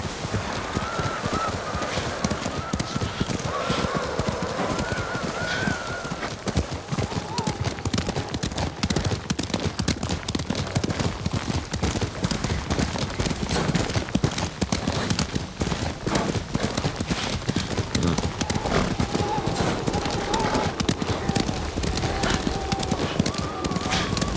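Horse hooves clip-clopping steadily in the game Ghost of Tsushima, a continuous rhythmic trot under a wash of ambient game sound, with a brief tonal whinny-like cry early and again near the end.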